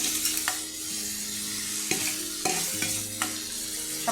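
Fried green jackfruit is stirred into a spice paste of ginger in a pan, with a low sizzle under several distinct scraping strokes and knocks of a spatula, close and unaccompanied by speech.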